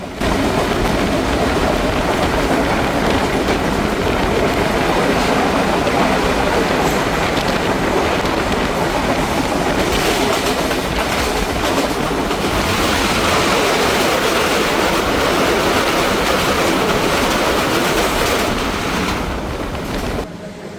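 The Banalata Express passes through Baral Bridge railway station on the Dhaka–Rajshahi route with a continuous loud rushing rumble and wheel clatter. The sound is heard close for about twenty seconds.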